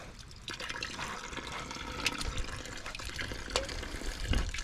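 A water tap left running for backyard chickens spills and drips into a mud puddle, a close and uneven trickle with scattered splashes and drops.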